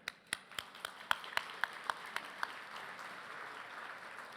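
Audience applause at a community gala honoring local figures: a thin, evenly spaced run of individual claps rises and then softens, sounding like a modest crowd in a hall, with no voices over it.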